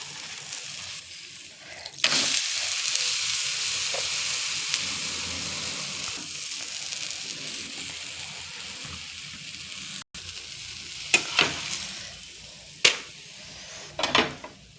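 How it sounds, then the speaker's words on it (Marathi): Moong dal pancake sizzling steadily in oil on a pan, a continuous close frying hiss with a few sharp scraping taps near the end as it is flipped. "आणि आता असं तेल टाकायचं साईडला थोडस हे बघा मस्त असा पलटी मारू त्याला"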